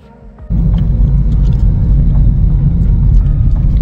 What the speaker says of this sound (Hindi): ये आगे जा रही है गाड़ी